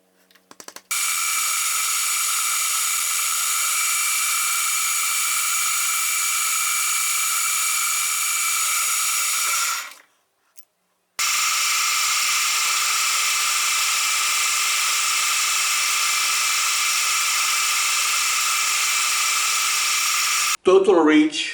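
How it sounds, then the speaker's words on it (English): A milling machine cutting metal in a home workshop: a steady, loud, high whirring grind running continuously for about ten seconds, a brief stop, then resuming just as evenly until a clatter at the end. "milling machine."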